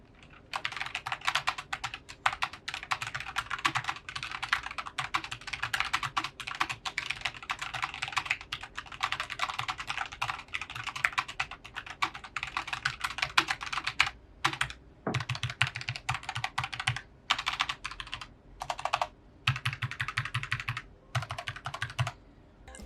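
Fingers type quickly on a Logitech G915 TKL low-profile wireless mechanical keyboard, making a close, steady run of soft clicky keystrokes. Brief pauses break up the bursts.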